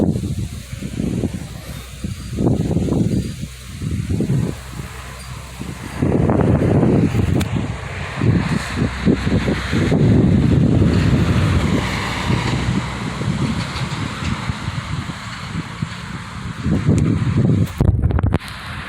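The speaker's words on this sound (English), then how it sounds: "the wind is blowing hard on me right now" Strong wind gusts roar and buffet against the microphone outdoors in Jackson, Alabama as a storm approaches with light drizzle, loud and continuous with surging bursts.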